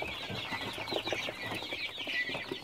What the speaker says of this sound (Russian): Вот смотрите наших перепелят. Им 10 дней.